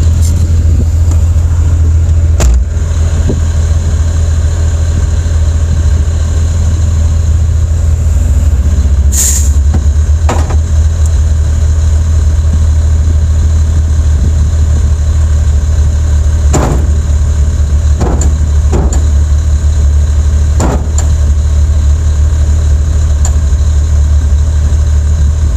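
A Jeep Cherokee XJ engine idles steadily as it warms up inside a closed garage, a loud, constant low rumble with a few brief clicks and knocks over it, no voices.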